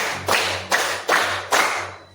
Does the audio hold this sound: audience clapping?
yes